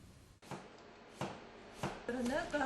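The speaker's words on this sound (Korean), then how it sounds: "먼저 각각의 채소들을 50g씩 준비해서 아주 잘게 다진다" A knife finely chops onion, carrot, pumpkin and cabbage for a vegetable soup, giving three separate, fairly soft chopping strokes before a voice begins talking.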